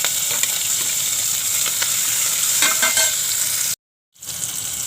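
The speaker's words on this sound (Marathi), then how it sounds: "कांदा टोमॅटो चांगला भाजत आला आहे." Onion and tomato with curry leaves sizzle steadily in a pan, a dense continuous frying hiss with a few stirring clinks, cut by a brief silent gap near the end before the sizzle resumes.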